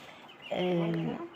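A chicken in a small home coop gives a short, close, tonal cluck over a low background hum.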